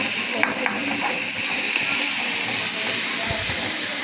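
Loud, steady frying hiss from ingredients sautéed in a pan until golden, with faint scraping and a few clinks beneath the continuous sizzle.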